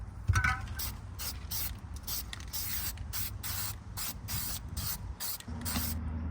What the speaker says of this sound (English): I did go ahead and spray underneath the wires as well.